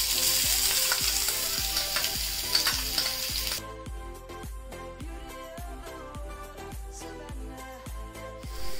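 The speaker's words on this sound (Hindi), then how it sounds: "चॉप अनियन डालेंगे।" Chopped onions hit a hot pan for a tomato onion chutney, giving a loud, dense sizzle for about three seconds before it gives way to rhythmic background music.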